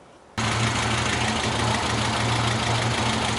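A Moskvich 412 car engine, running on flushing oil during an oil change, cuts in abruptly and settles into a steady, close, low rumbling idle with a slight uneven shake.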